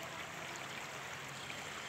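River water flowing steadily around trees at El Boquerón river in El Estor, Izabal, a continuous broadband rush with no pauses, moderately near and alone without voices.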